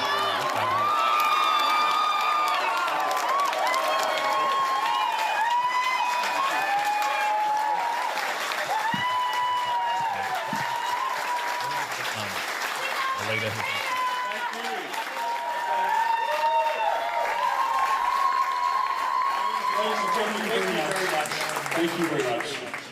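Crowd at a Liberal Party election night event cheering, whooping and applauding steadily as Peter Dutton arrives and moves through the throng, loud and sustained with shouts and voices mixed in throughout.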